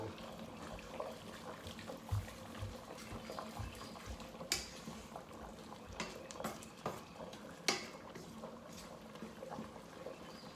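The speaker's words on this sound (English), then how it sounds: "let's mix all that in so that we can get that vegetable broth stirred in" Vegetable broth being stirred into a mushroom ragout makes soft, faint liquid sloshing with intermittent utensil scrapes and knocks against the pot over several seconds.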